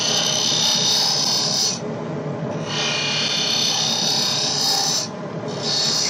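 A hand tool shear-scrapes the curved surface of a wooden sphere in close, raspy, rhythmic strokes with brief pauses between passes, and no voices.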